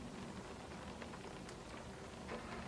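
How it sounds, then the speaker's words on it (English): Steady, soft rain falling outdoors on a 51-degree day, a continuous faint hiss with scattered drop patters and no voices. "Currently it's raining"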